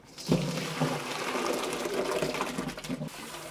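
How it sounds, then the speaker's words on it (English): Water drains from rice in a cooking pot, a continuous splashing pour with a bubbly gurgle, close and fairly loud, easing slightly toward the end. "it's a time to just drain the water on this rice and wash that."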